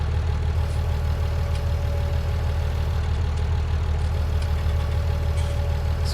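A tractor engine works under heavy load in the video game Farming Simulator 19, a steady low droning rumble that stays loud and constant throughout with a faint ticking on top.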